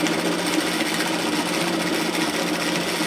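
Sewing machine running continuously at steady speed, stitching a waistband onto an apron skirt at about a quarter-inch seam, a soft, even mechanical whir close by with no talking.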